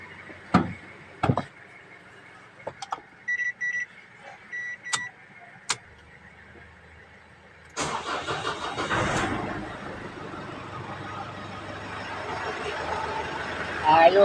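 A Ford Ranger engine starts after an overhaul. Scattered clicks and clunks come first, then the engine catches and settles into a loud, steady idle. People talk nearby.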